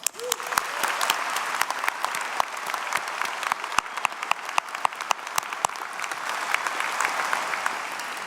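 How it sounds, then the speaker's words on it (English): An audience at a college convocation ceremony claps steadily and fairly loudly throughout, with dense overlapping hand claps and a few sharper individual claps standing out, no voices. "let us take a moment to acknowledge that fact with a round of applause"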